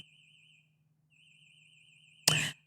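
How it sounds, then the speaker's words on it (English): Home security alarm sounding indoors as a warbling electronic tone over a low hum, cutting out briefly and resuming, then a short loud burst of noise at the end. "that would be my home alarm going off"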